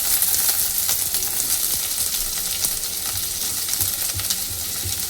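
Garlic and onion frying in hot oil in a village kitchen for a dried shrimp and brinjal dish, a continuous close sizzle with occasional light stirring clicks and no talking.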